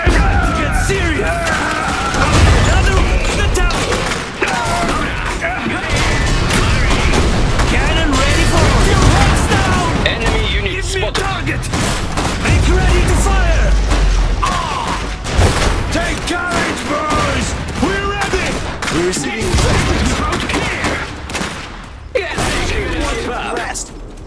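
Battle noise from the video game Iron Harvest, with gunfire and explosions, plus mechanical clanks. It runs dense and continuous over about 24 seconds with repeated bursts and booms, mixed with in-game unit voice lines.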